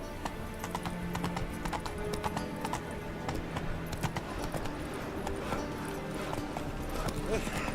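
Roach, Geralt's horse in The Witcher 3 video game, clip-clops along at a steady walking rhythm with occasional snorts, set among ambient outdoor game sounds and intermittent character voices.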